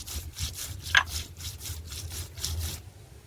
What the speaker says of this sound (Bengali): মা এখন জিরে মরিচ বেটে দিচ্ছে শিলনোড়ায় ফেলে